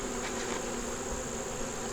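Bees hum steadily around a hive, a dense continuous buzzing drone at low level with no voices.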